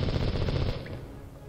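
A rapid burst of gunfire in the video game CastleMiner Z rattles close and loud, then fades into a ringing tail.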